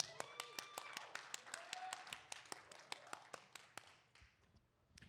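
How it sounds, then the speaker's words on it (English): Comedy club audience in Las Vegas clapping, a steady run of sharp claps that thin out and fade toward the end, with faint voices and laughter under them. "I am surprised at the number of women actually clapping at that"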